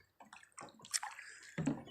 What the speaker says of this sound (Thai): น้ำไหลครับ